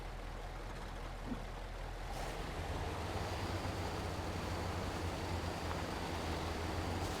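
A truck rumbles through a river in the video game Mudrunner, its low engine drone rising under a steady wash of water and wind-like noise, continuous and fairly faint throughout.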